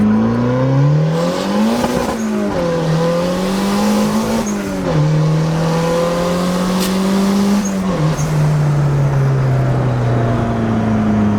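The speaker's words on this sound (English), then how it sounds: "there's a lot of turbo spool" A turbocharged Honda Civic engine pulls hard up through the gears, its loud, close tone rising then dropping at each shift, with turbo whine and spool riding over the drone.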